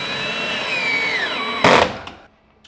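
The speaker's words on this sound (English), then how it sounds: "we're going to start by kind of putting the long center screw in" A power drill or driver sends a long center screw into a door hinge with the door still hung, whirring steadily and winding down in pitch before a short louder burst as the screw seats, then quiet.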